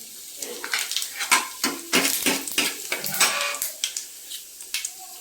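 Cumin and onion tipped into hot oil in a home kitchen pan, bringing a run of clattering metal-on-pan knocks and scrapes over a light sizzle, close and fairly loud with no talk.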